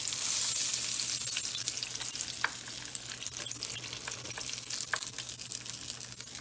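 Hot Cheetos-coated pickles deep frying in hot oil: a close, steady sizzle dotted with sharp crackles and pops.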